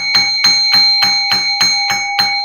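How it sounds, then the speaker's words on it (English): A bell is struck eight times at an even, unhurried pace. Each strike is a bright, ringing tone that carries loud and close with no talking. "Let's hit that bell"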